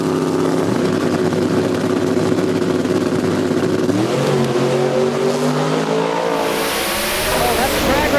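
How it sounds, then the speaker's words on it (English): Small-tire drag race cars, one a Vortex small block Ford Mustang, roar loudly off the line at a raceway, engine pitch climbing as they pull away, then fading to a distant whine. "Oh, that's a drag race right there."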